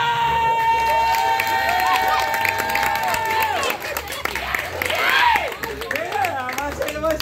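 Audience at a clown show cheers, shouts and claps loudly and continuously over a music track, with children's voices rising through the crowd noise.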